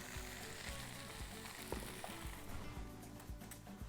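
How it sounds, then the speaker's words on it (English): Salmon and shrimp sear in a hot saute pan, giving a steady, close crackling sizzle with small pops and faint stirring, no talk over it. "you hear that sizzling in your saute pan, you're gonna get a good sear"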